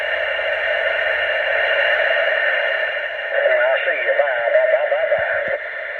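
CB radio installed in a Chevy with the squelch turned down, giving a steady band of static hiss, with faint warbling radio chatter breaking through in the second half.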